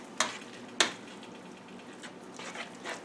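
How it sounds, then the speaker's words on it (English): Creamy parmesan garlic chicken with noodles being stirred in a pan: two sharp scraping strokes near the start, then softer scraping and a low sizzle, close and alone with no talk. "Give it a light stir."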